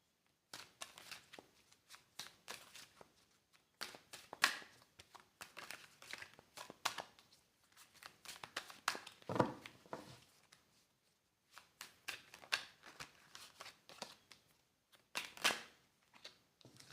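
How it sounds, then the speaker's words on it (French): Tarot cards being shuffled and drawn, a run of crisp riffling bursts and slides spaced across the stretch with short pauses between, close and fairly quiet, no voice over them. "on va sortir encore une carte"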